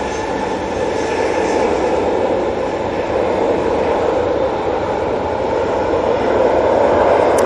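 A passenger jet approaching Manchester Airport on finals, its engines a steady, loud, broad roar holding level throughout with no talk over it.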